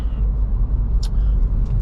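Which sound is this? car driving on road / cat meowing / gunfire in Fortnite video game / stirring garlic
car driving on road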